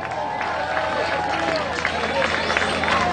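Outdoor crowd at a zombie walk in Mérida clapping and murmuring for a costumed zombie, steady dense applause with babble and scattered voices throughout.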